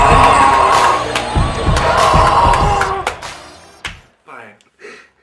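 A studio audience at a talk show claps, whoops and cheers loudly for a departing guest, a dense crowd roar that drops off abruptly, leaving a few scattered sounds.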